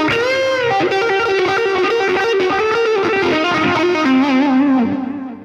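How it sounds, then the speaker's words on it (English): Electric guitar played through a Line 6 POD Express with plate reverb, a sustained distorted chord-and-melody line ringing steadily and loud for about five seconds before trailing off into a reverb tail. "let's try a different reverb plate."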